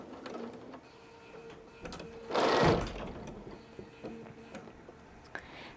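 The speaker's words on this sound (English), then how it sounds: "So I'm stitching, as you see, standing up, which is my favorite way to sew." Faint sewing machine stitching on a Christmas quilt sits low in a quiet room, with soft ticking and mechanical clicks and one louder rustling burst in the middle.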